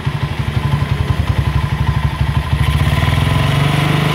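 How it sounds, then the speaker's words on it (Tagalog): A motorcycle engine revved with the throttle, a close loud rapid thumping beat that quickens and tightens midway as the revs climb. "Sel, paki-throttle mo nga."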